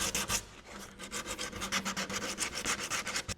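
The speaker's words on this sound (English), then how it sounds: "sand that crap off" Sandpaper scrubs rapid back-and-forth strokes across the clear coat on an old 40-year-old Bass Tracker boat hull, a close, rhythmic rasping with no voices.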